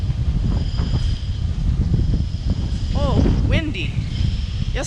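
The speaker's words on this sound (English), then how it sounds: "Yeah, I think that shape is definitely pushing the wind around here." Strong wind buffets the microphone in a rooftop garden at 20 Fenchurch Street with spindly birch trees, a steady roaring gust throughout while a person speaks and a few bird chirps cut in near the end.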